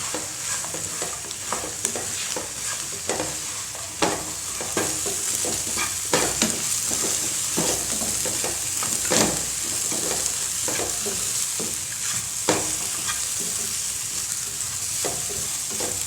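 Pasta 65 deep-frying in hot oil with coriander leaves, giving a steady, close, bubbling sizzle broken by sharp crackles and pops while the pieces are stirred. No voices.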